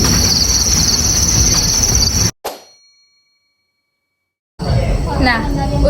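Adult crickets chirping in boxes at a cricket farm, a dense continuous high trill that suddenly cuts out after a clang and drops to silence, then resumes.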